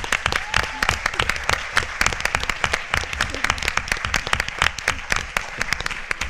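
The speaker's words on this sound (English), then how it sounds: "I would like another round of applause for Marion Fleming, our moderator, and the League of Women Voters." A crowd at a PTA candidates forum applauds the moderator and the League of Women Voters, sharp, close individual claps layered into loud, sustained applause across the whole stretch.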